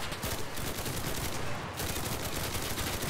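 Rapid automatic gunfire in the Enlisted zombies mode, a dense, continuous stream of shots that barely pauses, loud and close with no talking over it.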